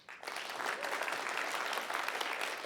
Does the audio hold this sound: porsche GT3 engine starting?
no